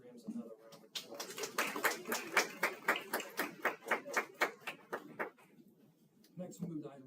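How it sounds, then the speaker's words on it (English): Applause for school music programs at a school board meeting, heard as a steady run of distinct claps, fairly faint and evenly paced for a few seconds, with voices murmuring before and after. "Let's give our music programs another round of applause"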